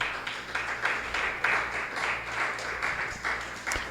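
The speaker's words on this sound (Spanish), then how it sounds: "Dele otro aplauso al Señor, hermano." A church congregation applauds in a steady, sustained burst of many hands clapping together, fairly close and filling the room, with slight swells in intensity throughout.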